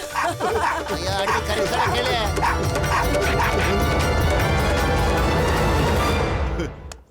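A dog yips and bow-wows repeatedly in a loud, busy cartoon scene, its barks overlapping with constant voices and background music.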